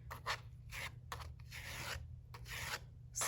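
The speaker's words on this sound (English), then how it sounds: "I can also take turns between going around with your sponge and going around with your scraper, or called a rib, actually." Sponge and rib smoothing a clay slab, soft rhythmic rubbing strokes over a low steady hum, close and fairly quiet.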